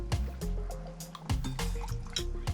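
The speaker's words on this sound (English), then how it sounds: "I can't actually pour a glass from it, so I have to use a straw." Slurping and gurgling through a straw from a large jug aboard a narrowboat, with wet sucking pulls and liquid bubbling sounds in short bursts, close to the microphone.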